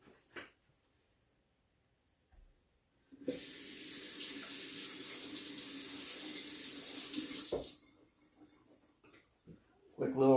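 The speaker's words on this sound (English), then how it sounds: "Quick little rinse of the basket filter." Tap water runs steadily into a sink while a coffee basket filter is rinsed, a few seconds of close splashing flow that stops abruptly, bracketed by quiet handling clatter.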